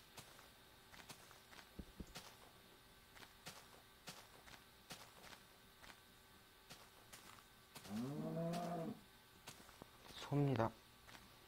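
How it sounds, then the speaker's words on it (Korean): A cow in a video game lows twice, a short moo followed by a louder one, after a stretch of quiet footsteps and soft clicks. "소입니다"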